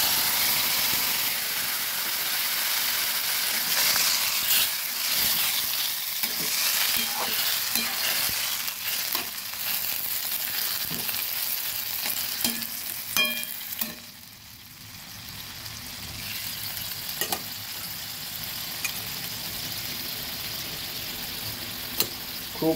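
Boiled papaya pieces frying and being stirred in a pan for a vegetarian papaya shukto, a steady loud sizzle with a spatula scraping and clinking throughout, alone with no talk.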